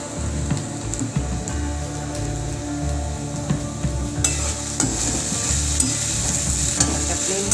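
Okra fried in a pan with garam masala powder is stirred, a steady loud sizzle with repeated scraping stir strokes throughout, close by and with no talking.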